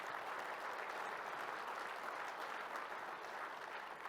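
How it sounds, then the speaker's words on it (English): Sustained applause from a conference audience honoring former NACo presidents, a dense steady clapping wash at moderate distance that continues evenly with no talk. "Commissioner Colleen Landcamer, please give them a round of applause"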